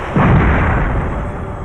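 A heavy, booming blast of gunfire from the player's ship in the PlayStation game Shockwave Assault, one loud sustained burst that rumbles and fades over a second or so, with no voices.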